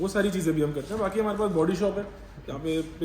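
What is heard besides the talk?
No distinct noise like a dog, phone or traffic.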